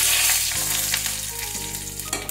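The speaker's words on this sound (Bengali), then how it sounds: "এবার আমি এতে ফোড়নের জন্য যা যা রেখেছিলাম, গোটা জিরে, শুকনো লঙ্কা, তেজপাতা, দারচিনি, 2টো লবঙ্গ আর এলাচ" Whole spices (cumin seeds, dried red chillies, bay leaf, cinnamon, two cloves and cardamom) tempering in hot oil for a vegetable dal give a steady, loud, close sizzle with crackling pops throughout.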